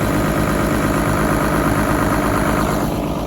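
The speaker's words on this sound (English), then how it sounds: "Just like every other 12 valve flick starts." A Cummins 12 valve diesel on a Hyundai PC250 excavator runs at a steady, loud, rhythmic idle with a low chugging pulse and no talk, after sitting five years.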